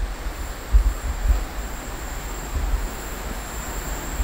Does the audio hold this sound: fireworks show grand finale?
no